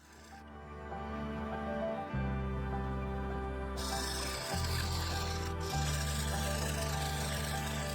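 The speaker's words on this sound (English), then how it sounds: "I used a 3/8 bowl gouge to remove the uneven surface" A 3/8 bowl gouge cutting a wood bowl on a lathe: a steady, close scraping rasp over the motor's low hum.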